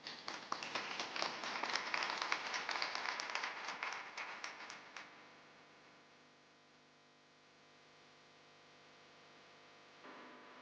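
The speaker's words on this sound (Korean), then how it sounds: "큰 박수 부탁드립니다" An audience at a startup policy symposium claps for about five seconds as a speaker is called to the stage; the dense clapping then stops abruptly, leaving quiet room tone with a faint stir near the end.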